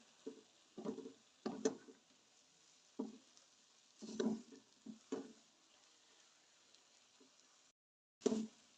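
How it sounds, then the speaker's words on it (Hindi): A spoon stirring thickening besan halwa in a pan, soft scraping and thick sticky squelches arriving in irregular strokes, faint and close with quiet gaps between. "ये देखें मुसलसल चम्मच चलाते जाना है और इसको मिक्स किए जाना है।"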